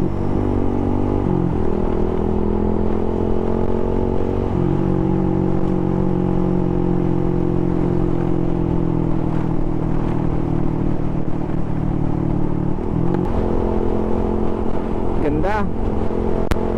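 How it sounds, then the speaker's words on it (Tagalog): Close up, a Suzuki Gixxer motorcycle engine drones steadily at high RPM on a ride, its pitch climbing and dropping a few times through a continuous, loud hum. "Gusto ko talaga pag umuungol yung tunog niya. Kaya lagi kong hina-high RPM eh."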